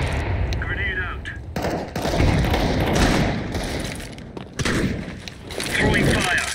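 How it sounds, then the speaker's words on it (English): Loud, dense Counter-Strike 2 combat din: a grenade thrown and bursting amid continuous gunfire, with heavy thuds and booms swelling and fading over several seconds, voices faintly under the noise. "Grenade out."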